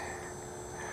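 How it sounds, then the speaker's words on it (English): A Cessna 182 Skylane airplane taking off at Largo Flying Field in Florida, its engine a steady, continuous drone that holds level throughout the short moment. "I'm getting ready for a takeoff."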